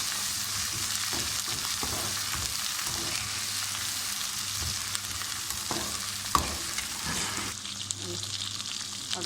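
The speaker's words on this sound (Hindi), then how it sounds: "हल्का सा फ्राई करेंगे" Ginger garlic paste and green chillies fry in a kadai for chicken, giving a dense, even sizzle and crackle up close, with occasional stirring scrapes and a clack near the end.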